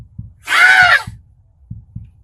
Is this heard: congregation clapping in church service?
no